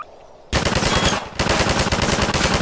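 Loud, dense automatic gunfire from a Combine enemy in Garry's Mod bursts in after a quiet half second and keeps hammering in rapid shots, with one brief dip partway through.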